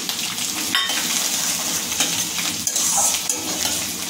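Rice sizzles and fries in a pan with spices as it is stirred. Sharp scraping and clinks of a utensil against the pan sound over the continuous crackle, with no talk.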